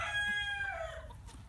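A brief, fairly close crow from a Buff Orpington flock in melting snow, a single drawn-out call that fades into faint clucking.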